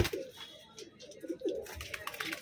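Black pigeons kept in a sale cage cooing in short, low, throaty bursts, several calls over a couple of seconds, fairly close, with faint background noise.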